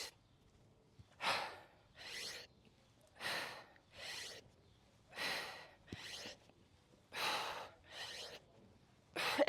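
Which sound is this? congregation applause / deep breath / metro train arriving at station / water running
deep breath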